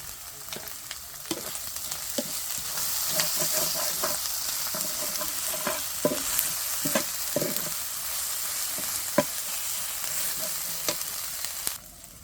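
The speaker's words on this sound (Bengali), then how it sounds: "আদা রসুন বাটাটা একটু ভালো করে ভেজে নিতে হবে" Ginger-garlic paste sizzles with spices and salt in a hot pan, a continuous close crackle with repeated sharp scrapes and taps of a spoon stirring.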